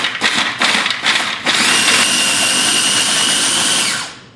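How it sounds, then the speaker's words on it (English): A food processor grinds sambal base ingredients for a Malaysian dish, opening with several choppy pulses before settling into a loud, steady high-pitched whir that runs about three seconds and then cuts off. "into the processor goes the base ingredients for my sambal. And I'm going to grind that up"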